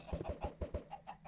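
Chickens in the blocky game Minecraft giving a quick run of soft, rhythmic clucks, faint and close together, then a few quieter ones trailing off.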